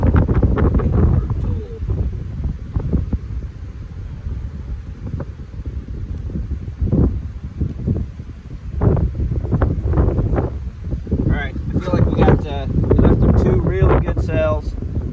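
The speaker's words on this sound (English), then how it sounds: "Man, this wind is awful." Strong gusty wind buffets the microphone outdoors at beehives, a constant low rumble throughout, with a person talking intermittently over it.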